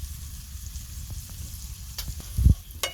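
Spices with red chilli powder, coriander powder and salt sizzling in a pan for aloo gobi, a soft steady fry with a couple of stirring scrapes and a louder knock near the end.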